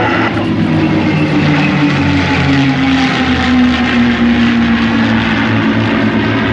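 Several P-51 Mustangs perform overhead at an airshow, their piston engines droning loud and continuous with a slowly shifting pitch as they pass above.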